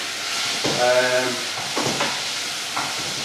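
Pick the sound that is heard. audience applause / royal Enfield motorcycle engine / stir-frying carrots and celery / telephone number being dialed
stir-frying carrots and celery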